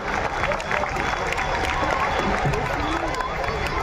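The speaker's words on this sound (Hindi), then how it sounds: "हाजरीन जोरदार तालियों से मेहमानान का स्वागत कीजिए।" Gathered attendees at a nursery and primary school function in Malegaon clap loudly to welcome guests, a continuous wash of applause mixed with crowd noise and some cheering throughout.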